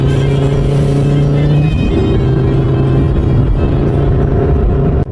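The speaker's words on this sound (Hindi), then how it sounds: "सभी अमीर व्यापारियों ने अपने अपने गाड़ियों में मेला देखने आए।" Cars arriving at a village fair give a loud, continuous engine drone up close, with the pitch dropping partway through as a vehicle passes or shifts, and the sound cuts off abruptly at the end.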